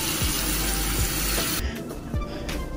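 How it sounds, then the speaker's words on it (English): Warm water pours steadily from a tap into a dog food bowl, a loud, close, continuous stream that cuts off partway with a few light splashes and clinks after. "And lastly, I put warm water in it."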